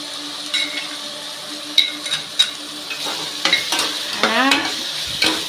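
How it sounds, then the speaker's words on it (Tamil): Ginger garlic paste sautéing with tomatoes in a pan for a chicken gravy, giving a steady close sizzle broken by several sharp scraping stirs of a spoon against the pan, with no talking. "இப்போ இஞ்சி பூண்டு பேஸ்ட்டு போட்டு நல்லா வதக்கிட்டு இருக்குது"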